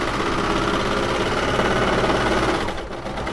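A serger sewing machine stitches up and over a fabric surgical face mask, running in a steady, close, continuous whir for about two and a half seconds before slowing and easing off near the end.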